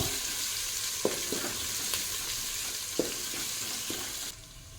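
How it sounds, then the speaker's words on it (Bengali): Chopped onion with half a bay leaf and cumin seeds frying in a pan, a steady sizzle throughout with a few sharp scrapes of stirring, ending abruptly. "একটা পেঁয়াজ কুচি, সঙ্গে দেবো আধখানা তেজপাতা। একটু নাড়িয়ে চাড়িয়ে ভেজে নেব।"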